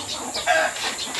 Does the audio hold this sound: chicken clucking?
yes